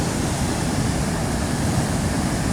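Heavy floodwater pours over a dam in Montalban, Rizal, a constant broadband roar of rushing water, dense and unbroken throughout with no voices.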